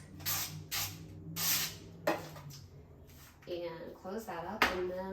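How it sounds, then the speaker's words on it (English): Avocado oil spray hisses onto parchment paper in several short bursts, followed by someone talking at low volume. "I'm gonna use my avocado oil spray. And I'm just gonna spray my parchment on all sides."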